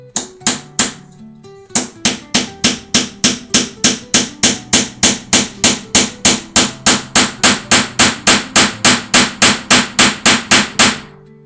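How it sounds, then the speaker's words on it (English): Rapid, steady series of light taps from a small hammer driving a tiny nail into wood, about thirty sharp metallic strikes in quick rhythm, close up and loud, with a brief pause near the start. "to drive an itty bitty nail. And I guess I need an itty bitty hammer."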